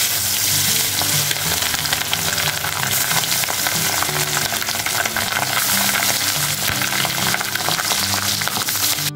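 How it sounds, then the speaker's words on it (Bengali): Chicken pieces rubbed with salt and turmeric frying in hot oil in a wok, giving a loud, dense and continuous sizzle heard up close, with occasional stirring and no voices. "চিকেনটাকে লবণ এবং হলুদের গুঁড়া দিয়ে ভালো করে মেখে তেলে ভেজে নিতে হবে।"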